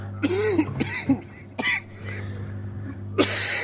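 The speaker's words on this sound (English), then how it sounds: "I can cough now." A man coughs several times in short, harsh bursts close to the mic, with throat-clearing sounds between them against a low hum.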